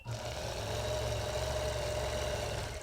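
A sewing machine runs steadily, stitching back-and-forth lines through layered fabric for reverse appliqué, its motor giving a continuous, even whir with no pauses.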